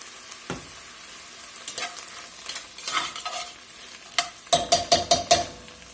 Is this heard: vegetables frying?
yes